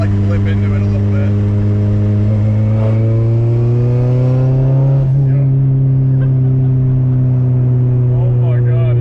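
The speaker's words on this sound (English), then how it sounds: "Like you can actually hear like the blow-off valve" A K-swapped Subaru STI accelerates with a strong, rising engine drone that climbs steadily, then drops off abruptly around midway as if the driver lifts off, followed by a quick hiss and a lower settling tone.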